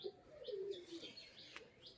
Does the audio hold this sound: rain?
no